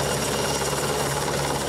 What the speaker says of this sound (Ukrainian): Поранених евакуюють морським рятувальним гелікоптером.